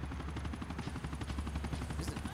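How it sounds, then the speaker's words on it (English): Helicopter rotor thudding steadily in the game GTA 4, a dense rhythmic chop running throughout, loud and close, with gunfire-like bursts mixed into the game action. "Is it a helicopter?"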